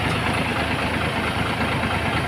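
A customized Azkha Wijaya Trans bus nicknamed Tuan Muda runs with an aftermarket loud exhaust, a deep, continuous rumbling idle close up with steady low throb and no talking over it.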